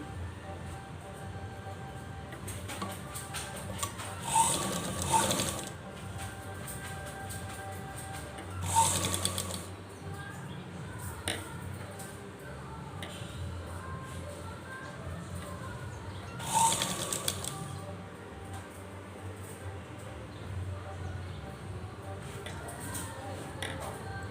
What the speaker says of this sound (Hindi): इस चोली को इस ड्रेस में ऐसे करके यहाँ पे बराबर से हमें सिलाई लगा देना है